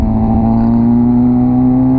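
A Honda CB 1000R motorcycle pulls hard under acceleration, a loud steady engine drone with a strong sustained tone, heard close up as if from the passenger seat.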